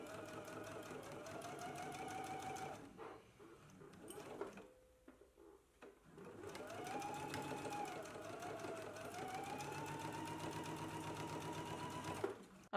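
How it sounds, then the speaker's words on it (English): A sewing machine runs along the waist seam of a pair of pants, sewing steady rapid stitches up close. The motor hum rises and falls in pitch, with a quieter pause near the middle before the stitching resumes. "Let's go ahead and stitch it in place now."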